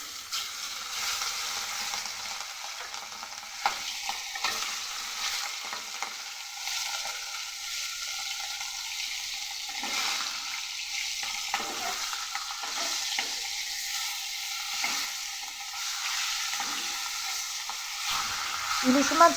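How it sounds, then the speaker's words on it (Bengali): Hilsa fish frying in hot oil in a kadai on a gas stove, a soft continuous sizzle with bubbling crackle that rises slightly toward the end, no talk. "মাছগুলো ভেজে নেব।"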